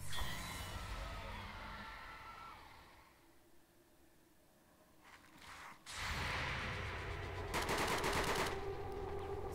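Soldiers open fire in XCOM 2, with loud bursts of automatic gunfire at the start, a quieter lull, then heavy rattling volleys that return and hold for the last few seconds.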